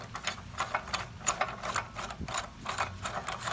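A dual or single disc brake pad spreader being screwed into a brake caliper, making a quick, steady run of close, crisp ratcheting clicks with no talking.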